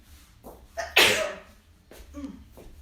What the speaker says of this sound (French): Attention, je vais éternuer un bon coup.